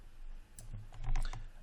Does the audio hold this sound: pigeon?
no